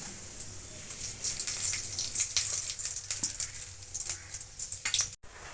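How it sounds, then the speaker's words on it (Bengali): Cumin seeds, bay leaf and dried chillies fry in mustard oil in a wok, a hissing, watery sizzle with scattered small pops and crackles. Close and moderately quiet, no voices, ending in a brief cut. "দিয়ে দিচ্ছি জিরে তেজপাতা শুকনো লঙ্কা"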